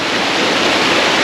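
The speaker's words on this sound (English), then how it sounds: "now you can hear it, it's gushing." Gushing waterfall in Koh Samui during the wet season, a dense, steady roar of rushing water close by and loud throughout, with no voices.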